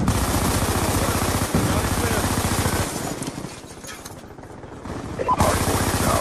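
A Death Machine minigun firing in a Call of Duty match, sustained rapid bursts that dip and resume over six seconds, with game voices faintly mixed in.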